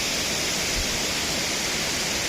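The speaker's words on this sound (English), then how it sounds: "Amazing waterfall. White Surf, Little Andaman." White Surf waterfall on Little Andaman pours in a steady, dense roar of falling water, loud and continuous throughout with no voices over it.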